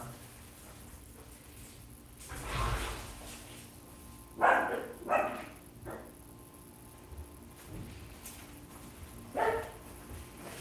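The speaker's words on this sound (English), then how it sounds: "Let me go let the dogs out and I'll yell and you can probably hear it from the background." Dogs bark outdoors in the distance, a few faint, scattered yips and barks spaced apart, heard from inside with no talking.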